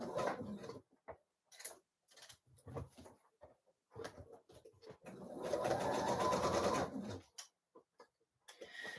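A sewing machine stitches the collar into a Mayfair dress with a normal straight stitch, running in short intermittent bursts and then one longer steady run, close and moderately loud.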